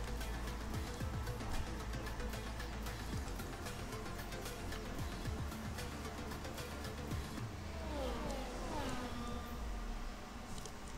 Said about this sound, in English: a loud car that slips a lot